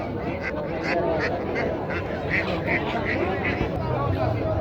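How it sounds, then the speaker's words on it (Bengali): Ducks quack and chickens cluck among a crowd at the weekly market day in Bhairab Bazar, Sreemangal, Moulvibazar, with repeated quacks heard under steady voices and market bustle. "হাঁস মুরগি।"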